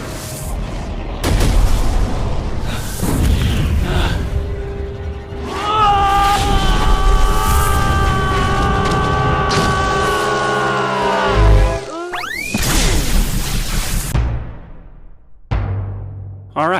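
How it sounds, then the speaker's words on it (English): Sci-fi explosion effect for an energy dome that bursts out and hits the camera: a run of heavy booms and rumbling blasts, then a sustained tonal hum that swells and bends, then sharp sweeping bursts, loud and alone. "we'll cover the sci-fi explosion effect, where a dome of energy flies out of the button and hits the camera"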